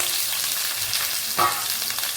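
Onions, tomatoes, potatoes and green chillies sautéing together in a pan for chicken gravy, a steady soft sizzle with a brief louder stir or clatter midway, no talking.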